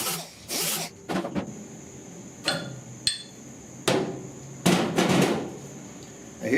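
A flat hammer strikes the damaged metal dash of a 1966 Ford F100 in irregular, sharp, close blows, some single and some in quick pairs, with short scraping and shuffling between the hits.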